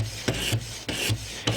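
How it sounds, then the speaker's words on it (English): Knife blade drawn across a diamond sharpening stone in repeated strokes, a close, steady metallic rasp with brief pauses between about four passes. "we all know that diamond stones tend to cut faster than your plain old silicon carbide stone"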